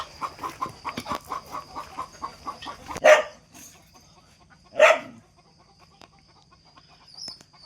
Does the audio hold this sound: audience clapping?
no